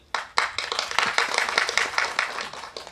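Audience clapping at a Tamil film audio launch event, a burst of many hands that starts sharply, rises to a steady dense patter and tapers toward the end, heard alone with no talk.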